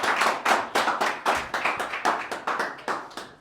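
A small audience at a group discussion session claps in unison, with distinct, evenly spaced beats at about three per second. The claps sound close and clear and there is no talking over them.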